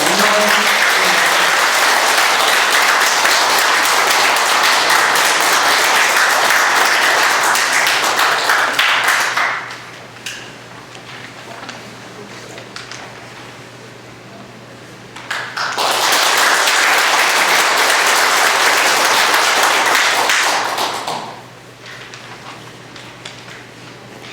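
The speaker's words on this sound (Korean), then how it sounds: "힘찬 박수로 맞이해 주시기 바랍니다" Audience applause at a Saenuri Party candidacy press conference, two long loud bursts of dense clapping separated by a quieter pause with light scattered claps and room noise.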